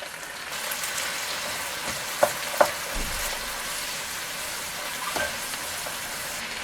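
Garlic and hot pepper sautéing in a pan, a steady close sizzle with occasional stirring scrapes and a couple of sharp utensil knocks, no talking.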